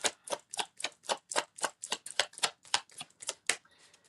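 A tarot card deck is shuffled by hand in quick, regular bursts of crisp riffling, about a dozen close sharp strokes that thin out at the end.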